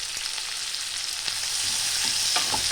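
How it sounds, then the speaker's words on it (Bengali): Chopped onions sizzle and crackle in a pan while being browned for a spicy shankar (stingray) fish curry, a dense, continuous frying hiss heard close up with no talking. "পেঁয়াজটা একটু লাল করে ভেজে নেব।"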